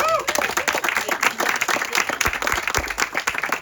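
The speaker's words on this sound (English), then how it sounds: "So let's give a round of applause." Applause from an audience at an elementary school groundbreaking ceremony, a steady dense clatter of many hands sustained throughout, with a few louder individual claps standing out.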